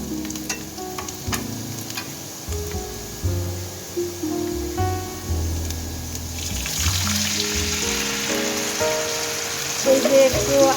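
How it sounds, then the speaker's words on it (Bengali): Chopped onion and cumin fry in fish oil in a pan, a continuous close sizzle broken by repeated scraping and clanking stirs, growing busier and louder toward the end. "আমি ওই যে মাছের তেলেই পেঁয়াজ কুচি দিয়ে দিলাম।"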